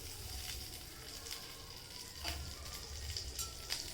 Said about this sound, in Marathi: त्यामध्ये आपण हे साजूक तूप घेतलेलं ते सुद्धा ॲड करणार आहोत